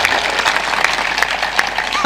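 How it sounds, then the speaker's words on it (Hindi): Loud, close crowd clapping at a spiritual discourse gathering, brisk dense applause filling the whole short stretch. "जोर से ताली बजाओ"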